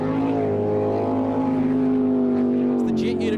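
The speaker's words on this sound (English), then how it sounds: "You can hear the engine RPM pick up." A jet sprint boat engine in a Suzuki Superboat race revs as the jet unit catches water, a loud steady roar that climbs slightly in pitch, with a commentator talking over it.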